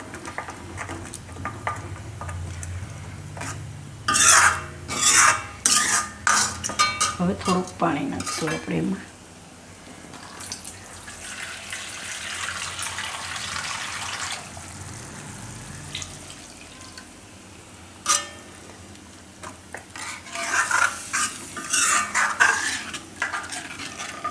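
A spoon stirs a yogurt mixture in a pan while preparing Gujarati raw banana kofta, giving irregular metallic clinks and scrapes, a busier stretch of clatter early on, then a softer, steady background wash.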